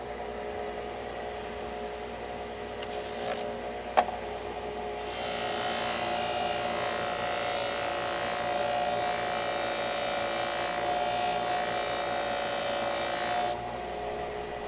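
A belt sander with a modified setup whirs steadily as a thinned knife blade is polished on it, a continuous close mechanical hum and rush that rises after a brief start and runs for several seconds before dropping off.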